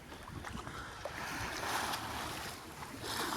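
A sailboat moves offshore through water in a very light breeze at about 4.5 knots, giving a steady, continuous wash of water and soft wind noise that swells slightly midway, with no voices.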